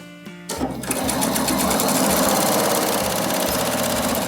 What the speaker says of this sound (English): Sewing on that side of the line.